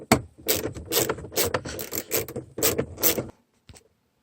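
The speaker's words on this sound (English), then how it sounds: "Second, peel the handle plastic cover off. Undo two 25 torque screws." Two Torx 25 screws being undone from the plastic handle cover of a 2001-2007 Volvo S60/V70 door, a close run of ratcheting clicks and small mechanical turns in quick bursts, ending in silence with one faint final tick.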